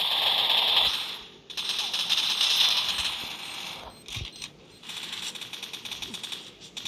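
Rapid bursts of video game gunfire crackle close by, with short pauses between volleys and metallic clicks mixed in.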